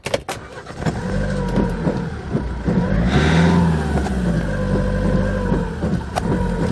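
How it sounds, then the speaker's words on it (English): A Kia Bongo III high-top box van engine, 11 years old, cranks and catches, then revs up briefly and settles into a steady idle, close and fairly loud. "let's start by starting the engine"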